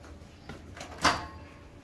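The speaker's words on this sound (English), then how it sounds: "Snap it down nice and tight." A plastic microwave baby bottle sterilizer lid snapped down onto its base, giving one short, fairly close click in a quiet room after a couple of softer handling bumps.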